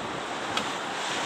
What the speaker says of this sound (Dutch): Dat is eventjes iets te veel wind.